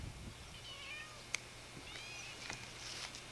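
A cat on a farm in Moundridge gives a few soft, drawn-out meows, with a brief sharp click between them, over quiet rural background noise.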